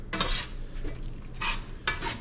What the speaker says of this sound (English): And then mix it. You gotta mix it quick because the pan is still hot.